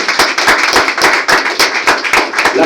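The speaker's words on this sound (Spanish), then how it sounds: "Exáltelo pues con un aplauso en esta hora" A church congregation clapping together during a worship service, a steady rhythmic beat of hand claps filling the room, loud and close with no talking over it.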